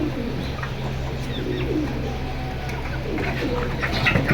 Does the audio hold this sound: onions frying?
no